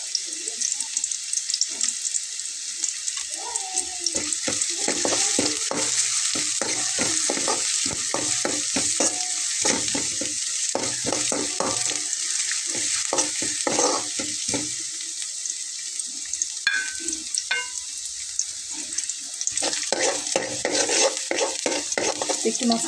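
Dried red chillies and whole cumin seeds crackle in hot oil while a spoon stirs and taps the pan again and again, a close, steady sizzle running for over twenty seconds without speech.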